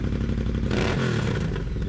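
A Triumph Speed Twin 1200 motorcycle with a British Customs GP 2-in-1 lowered exhaust idles loudly nearby with a deep, throaty burble, briefly swelling in a quick rev before settling back.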